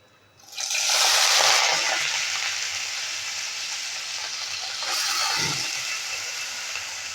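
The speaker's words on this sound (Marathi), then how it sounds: "पाणी सर्व निथळून द्यायचं आहे" Water pours off washed wheat semolina as it drains, a loud steady rush that starts abruptly, settles into a continuous splashing stream, then surges briefly again near the end.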